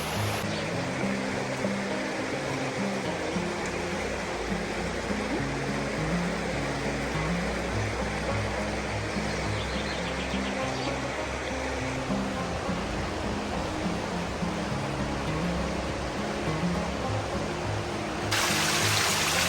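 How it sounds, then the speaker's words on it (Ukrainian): A small mountain stream flows through bushes in a Carpathian village in Zakarpattia, giving a continuous, fairly close rushing and trickling wash that stays steady throughout, with no talking. "А там в кущах тече ще один потічок з гір."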